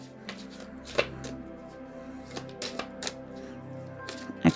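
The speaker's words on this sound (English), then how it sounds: "I'm going to just concentrate for a moment and try and do my best to shuffle." A deck of charm and oracle reading cards is shuffled by hand, giving quiet, close riffling and papery flicks with a few sharper taps scattered through, and no voices.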